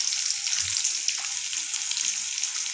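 Chopped onion sautés in a pan with a continuous soft sizzle and hiss, moderately close, broken only by a faint stir or bump.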